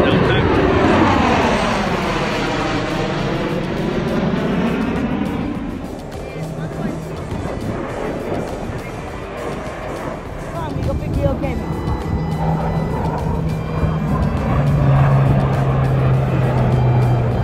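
U.S. Air Force military planes roar loudly overhead, a sweeping jet rush that fades and then swells again, with outdoor noise and people talking over it.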